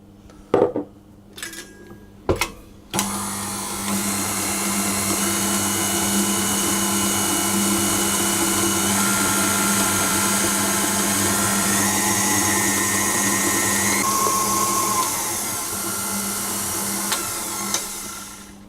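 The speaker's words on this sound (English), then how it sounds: "So the first thing to do is to whisk the butter and the sugar together until they're light and fluffy." An electric mixer whisks butter and sugar for a coffee and walnut cake. After a few clanks of dishes, the motor starts and runs in a steady loud whirr with a droning hum for about fifteen seconds, then winds down. No one speaks.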